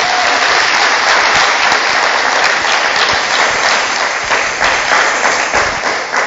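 A church congregation applauds and cheers for Jesus Christ, a loud, dense wall of clapping with mixed crowd voices that carries steadily from start to finish without a break.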